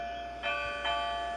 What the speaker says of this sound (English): That sounds like a bell